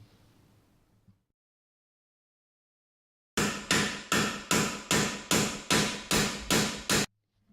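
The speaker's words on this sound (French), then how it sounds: "l'ouvrier plante en terre une enclumette et bat le bord du fer avec un marteau." Hammer beating the edge of a scythe blade on a small anvil set in the ground for harvest, nine sharp evenly spaced metallic blows in a steady rhythm after a quiet pause.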